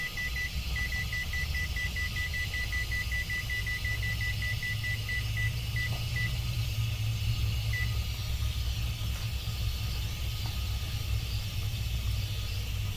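Cooking timer beeping in a series of rapid, evenly spaced electronic beeps while being set for popcorn grain mushroom cultivation, heard over a steady loud background hum; after a pause, one more beep.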